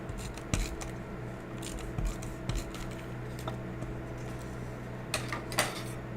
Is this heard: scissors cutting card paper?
yes